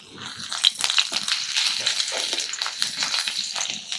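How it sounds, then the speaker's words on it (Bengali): Grated ginger and five dried red chillies dropped into hot oil in a wok, giving a bright, steady sizzle with crackles and spits, close and continuous, with no talk. "গরম তেলে কোরানো আদা দিয়ে দিলাম আর এরকম পাঁচটা শুকনো লঙ্কা"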